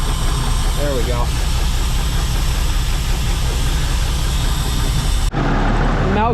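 An engine idles loudly while warming up with the throttle pulled out slightly, a constant rough rumble close by, briefly cutting in level near the end, with faint voices under it.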